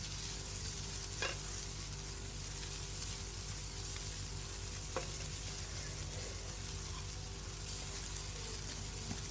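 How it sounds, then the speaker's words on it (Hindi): Shredded boiled chicken frying in a pan, a steady dense sizzle with occasional light stirring scrapes, close up and continuous with no voices. "इसके अंदर हम श्रेडेड चिकन डाल देते हैं और इसको थोड़ी देर तक फ्राई कर लेते हैं।"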